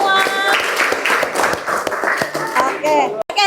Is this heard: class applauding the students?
yes